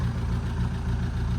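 A Vauxhall Astra engine with top-end damage and new injectors idles steadily, a close, low, even rumble with a faint clattering texture and no talk.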